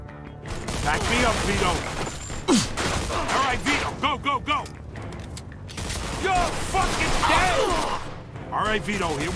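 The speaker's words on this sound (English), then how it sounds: "Stop shooting that fucking thing!" Rapid bursts of gunfire in the video game Mafia II rattle on almost continuously, loud and close, mixed with shouting voices and clattering impacts.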